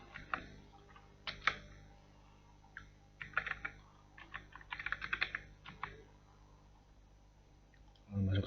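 Someone types a username on a computer keyboard during a Linux Deepin install in VirtualBox, bursts of close, quick key clicks with pauses between them.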